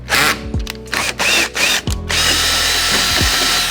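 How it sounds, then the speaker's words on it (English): A power drill bores a hole in a jet ski's hull with an 8 mm bit, in loud close bursts: several short revs at first, then one long sustained whine. "I'm going to go to like a 8 mil drill piece this time, and then I'll work up to 13 to get that plug through."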